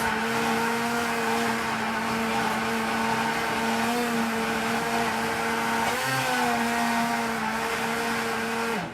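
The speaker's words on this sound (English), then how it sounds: "I'm going to use my Immersion Blender" An immersion blender whirs steadily in a pot of roasted red pepper and orange soup, loud and close, with a constant motor drone and a slight dip in pitch near the end.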